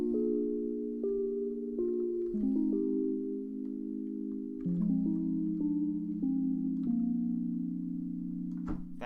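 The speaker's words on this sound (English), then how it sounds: "a lo-fi piano sound like this" Lo-fi piano patch built in the Serum synthesizer plays soft sustained chords that shift every second or so, with a few higher notes on top, at a steady moderate level with no voices.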